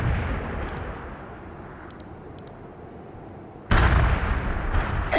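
Artillery and gunfire boom in a World in Conflict battle, a steady rumbling barrage of distant blasts with a few faint sharp pops, then a much louder close burst near the end.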